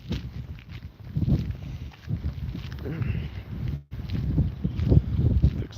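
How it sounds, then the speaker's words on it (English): Wind blowing outdoors during a trip to Jamaica, gusty low rumble buffeting the microphone in uneven surges, with a voice talking over it. "It's so windy out."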